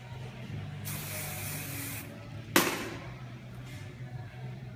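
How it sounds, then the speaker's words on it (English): Two hissing blasts of Paul Mitchell Hold Me Tight hairspray from an aerosol can, the first about a second long, the second a short sharp burst, close by and fairly quiet. "I am going to spray a little bit more of the Hold Me Tight"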